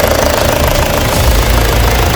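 A high-mileage Opel Astra G 2.2 DTI diesel engine idles close up with a loud, steady clattering knock and dense mechanical rumble throughout, no talking over it.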